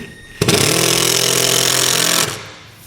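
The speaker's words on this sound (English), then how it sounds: "I'm just going to use a Phillips bit." A power drill fitted with a Phillips bit drives a screw to secure a ProGrip SR track, a loud, steady whirring burst of about two seconds that starts abruptly and winds down, with no talk.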